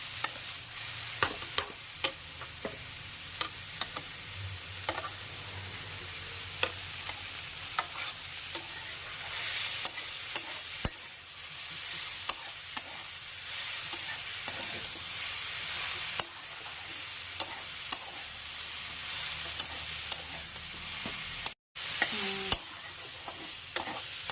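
Kolmi greens fry in a pan under a constant soft sizzle, punctuated by regular scraping and clinking as a spatula stirs them, close-up with no voices.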